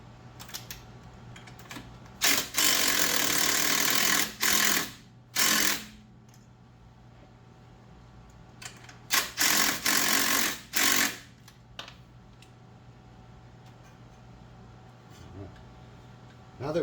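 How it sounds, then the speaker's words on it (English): On a Jeep Cherokee XJ, a ratchet tightens the serpentine belt tensioner in quick loud bursts of rapid clicking, two separate rounds each made of several runs, with quiet pauses between them and no speech. "I'm going to tighten this down to pull this pulley back and really tighten this down"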